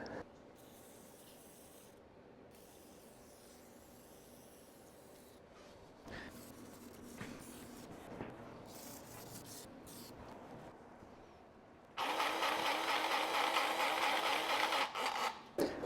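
Faint rubbing and shuffling noises lead into a long, loud hiss from an aerosol can spraying lubricant onto hay baler chains, which cuts off near the end.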